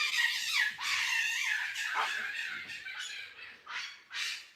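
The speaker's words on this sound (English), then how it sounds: "That's the sound of just baboons being baboons." Baboons calling, harsh raspy barks and screeching squawks in quick overlapping bursts, fairly close and loud, with no talking.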